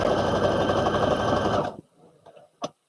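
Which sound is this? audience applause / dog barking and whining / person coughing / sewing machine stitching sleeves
sewing machine stitching sleeves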